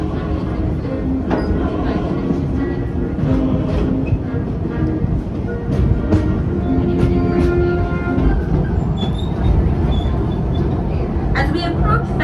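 A Busch Gardens Williamsburg amusement park train rumbles steadily as it approaches Festa Station, with a continuous low rolling drone and light rattles, and an amplified voice speaks over it throughout.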